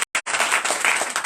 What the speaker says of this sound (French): Donnez l'acclamation!